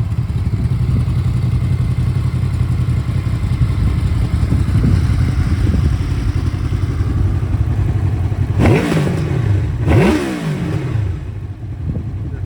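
A Honda VFR800X Crossrunner (2012) engine idles with a deep, rumbling throb, then two sharp revs blip through a loud, throaty aftermarket Hurric exhaust near the end.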